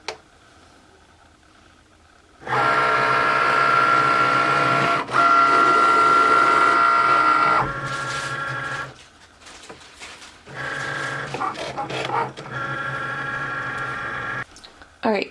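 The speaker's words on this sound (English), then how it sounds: "once our Cricut light starts to blink, we can cut" Cricut machine cutting vinyl for glitter Christmas ornaments, a series of mechanical whirring bursts with steady tones and brief pauses as the carriage moves, close and fairly loud.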